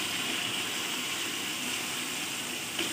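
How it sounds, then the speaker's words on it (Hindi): Water pours steadily into a pot of chicken and chickpea curry, a continuous close splashing gush that stays constant for a few seconds with no talk. "चने शामिल करेंगे और फिर इसमें हम इतना पानी डालेंगे जितना हमें शोरबा चाहिए।"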